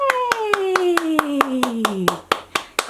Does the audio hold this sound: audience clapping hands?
yes